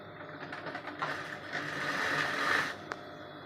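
A sewing machine stitches through three stacked layers of fabric, its steady mechanical whir rising and falling close up, with a sharp click near the end and no talking.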